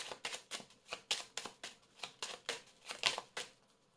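Tarot cards shuffled by hand, a quick series of about a dozen crisp riffling snaps in a steady rhythm, close and fairly quiet, with no talk.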